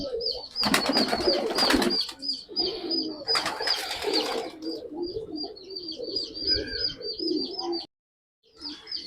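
Pigeons in a keeper's flock coo steadily, low rolling calls repeating throughout, with brief bursts of wing flapping and rustle early on and a short silent gap near the end.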